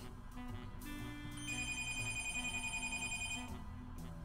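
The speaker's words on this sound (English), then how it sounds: "that's the phone ringing" A telephone rings repeatedly in the video game Night in the Woods, a steady electronic bell pulsing for about two seconds over background music, clear and fairly loud with no talking.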